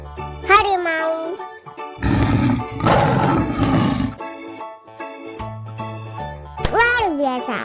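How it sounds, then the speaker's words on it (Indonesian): A tiger's roar from a children's animal-sound learning game bursts out loudly for about two seconds in the middle, with brief child-like voice snippets and game tones before and after. "harimau"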